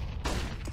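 Gunfire during a Counter-Strike match between TyLoo and MVP PK: a burst of several shots lands near the middle of a short stretch, loud against the steady game background, with no talk.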